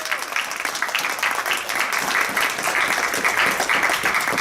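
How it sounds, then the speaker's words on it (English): Convention audience at a pony fan con breaks into sustained, dense applause, loud and close, filling the hall without pause. "round of applause for all the staff here at Whinny City"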